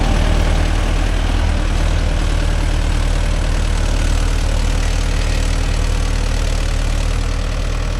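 Mahindra Yuvo Tech Plus 585 4WD shuttle tractor pulling a five-point cultivator through soil, its engine a loud, steady, close drone with a deep low rumble that holds even for the whole stretch, with no voices.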